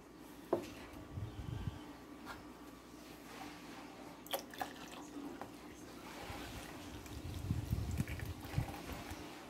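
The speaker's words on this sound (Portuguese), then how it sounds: "Vou colocar o restante da água aqui." The remaining water is poured into a tangerine-peel soap mixture, a close trickling and squishing pour with uneven splashes that builds louder toward the end; a voice is faintly present.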